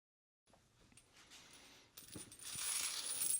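Loose 7.62x39 brass cartridge cases shuffled and rattled inside a folded towel, a steady muffled metallic jingle that grows louder and brighter in the second half, with no voices.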